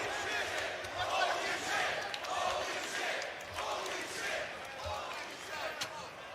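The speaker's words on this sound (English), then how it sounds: "the crowd is already going crazy" A wrestling arena crowd at a live Ring of Honor event in Los Angeles roars and cheers steadily, a dense wash of voices with occasional thuds, while a commentator talks over it.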